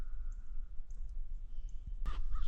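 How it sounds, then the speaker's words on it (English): Small birds call in foggy winter woodland in a quiet park, a few faint high chirps scattered over a soft background, with a brief louder burst near the end. "and I hear a lot of birds singing."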